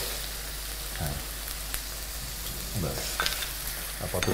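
Cumin seeds and spices frying in a hot pan while Khashir Mangsho Bhuna is cooked, a steady close sizzle with a few brief stirring scrapes and no voices.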